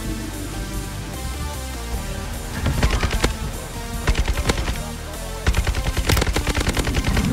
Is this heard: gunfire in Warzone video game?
yes